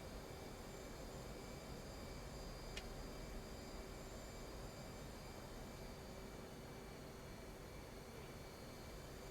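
F/A-18 jet engine in the DCS flight simulator, a continuous steady roar and whine held at an even level for several seconds, with no talk over it.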